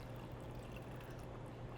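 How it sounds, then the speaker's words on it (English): Brewed loose-leaf tea poured off ice into a glass at a teahouse, giving a quiet, steady liquid pour and trickle that runs alone for under two seconds. "And then now do we just pour it in the glass?"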